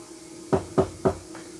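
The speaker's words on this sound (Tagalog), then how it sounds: "Isang malakas na katok ang gumulat sa kanya." Three loud, sharp knocks on a door in quick even succession, close and clear, followed by a fainter fourth tap, with no talking.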